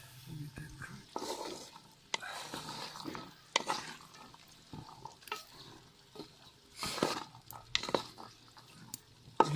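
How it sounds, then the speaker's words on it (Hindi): Chickpeas frying in a few large spoonfuls of oil for a village-style chickpea pickle, with scattered sizzling, stirring and scraping bursts and soft clattering, fairly quiet and uneven throughout. "और उसके बाद हम चना इसमें फ्राई कर लेंगे।"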